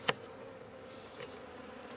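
Honeybees buzz faintly at a hive on a cool day, a soft steady drone with one brief nearby tap, heard alone without talk.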